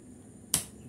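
One sharp, crisp snip of scissors cutting through paper, a single close cut in an otherwise quiet room.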